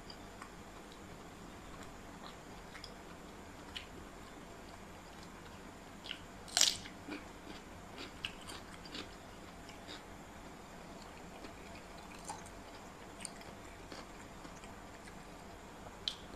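Someone bites and chews a large raw bitter gourd outdoors. A sharp crunchy bite stands out, followed by sparse, quieter crunches and chewing ticks over faint background noise.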